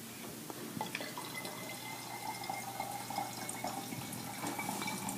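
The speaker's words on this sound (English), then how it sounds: "Once your bottle is filled up about 3/4 of the way, you're then going to add some water." Water trickling into a plastic bottle about three-quarters full of oil, a quiet continuous dribble with faint drips, no voices.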